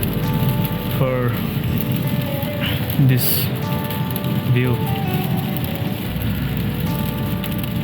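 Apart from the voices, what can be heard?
rain falling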